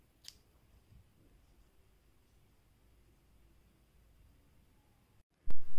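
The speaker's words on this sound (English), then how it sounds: "And now you chain 1 and you can cut your yarn." Scissors snip through crochet yarn after finishing a tiny snowflake ornament: one faint, short cut near the start, then a long near-silent stretch closed by a sudden loud, close handling burst.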